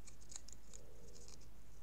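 Scissors snip through paper tabs for a small handmade album, a run of quick, crisp cuts close by and fairly faint, with no talking.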